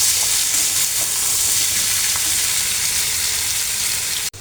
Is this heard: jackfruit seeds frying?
yes